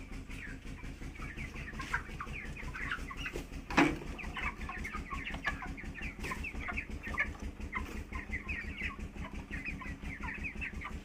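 Chickens cluck and chatter in a rural yard, a busy mix of soft repeated clucks from several birds close by, with a steady low hum beneath and one louder call partway through.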